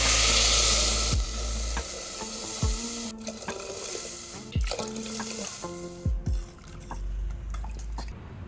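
Millet bisi bele bath is prepared in a pan: the oil sizzles steadily while a spoon scrapes and knocks against the metal in repeated strokes, close and clear, with no talking.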